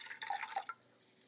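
Filtered water drips into a container on a kitchen scale, a few quick bright plinks close by within about half a second, then quiet.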